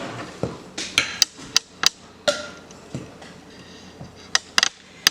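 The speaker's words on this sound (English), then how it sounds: "And then we mix all of that together." A spoon clinks and scrapes in a bowl while granola ingredients are mixed with cinnamon, making irregular sharp taps and soft rustling stirs, close and without talk.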